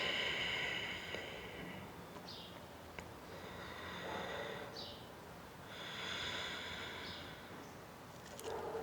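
Slow, deliberate yoga breathing, long airy inhales and exhales rising and falling in a calm rhythm, close and soft, with no talking.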